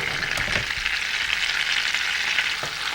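Onion frying in butter with garlic in a pan for an alligator baste, a steady, loud sizzle throughout with a few soft stirring knocks and no voices.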